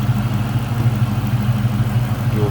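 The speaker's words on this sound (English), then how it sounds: "Dual overhead cam, V8," A supercharged dual overhead cam V8 in a 2003 Ford Mustang SVT Cobra convertible with cold air intake and aftermarket exhaust idles close by, a steady, deep, even rumble with no revving.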